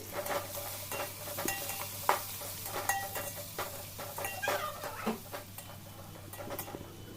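Curry leaves and mint being stirred into biryani masala in a pot produce a steady sizzle broken by irregular scraping and clinking of the spoon against metal, heard up close.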